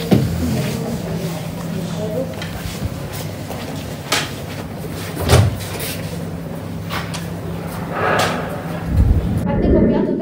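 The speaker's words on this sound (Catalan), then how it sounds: "i tanqueu la porta!" A door is pushed shut in a Catalan radio-drama staging of A Christmas Carol, giving dull thuds amid ongoing room noise and murmuring voices.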